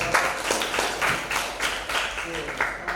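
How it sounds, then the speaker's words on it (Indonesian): A classroom audience claps during a macro photography lesson, a brief burst of uneven clapping mixed with voices of people talking. "Tepuk tangan dong buat Hasna."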